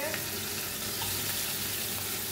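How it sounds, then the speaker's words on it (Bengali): Fish heads frying in hot oil in a pan for a fish-head dal, giving a steady, moderately quiet broadband sizzle that holds evenly throughout. "তেল গরম হয়ে গেছে, দিয়ে দিলাম মাছের মাথাগুলো। আগে এটা ভাজা ভাজা হবে।"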